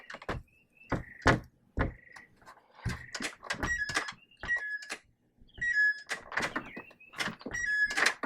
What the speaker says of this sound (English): our screen door outside doesn't shut. Let me show you that real quick.